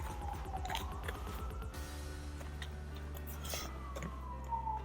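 Faint wailing ambulance siren far off on a golf course, its rising and falling tone drifting under a steady low hum and occasional small ticks.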